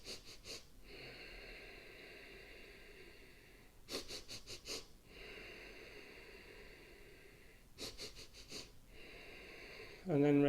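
Forceful yoga breathing exercise: rhythmic, hissing nasal exhales in quick bursts separated by longer sustained breaths, repeating in cycles, close and fairly loud, with a voice briefly at the end.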